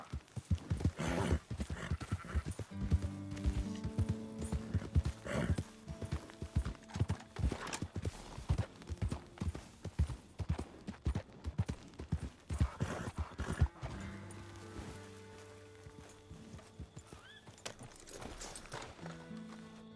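Horse hooves clip-clop in steady rhythm in Red Dead Redemption 2, close and crisp for the full stretch, with faint snorts or a whinny and soft game music tones underneath.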